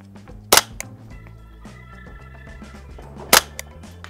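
Two sharp rifle shots from a Tactical Solutions survival rifle, spaced about three seconds apart and ringing out alone over a low background hum at a shooting range.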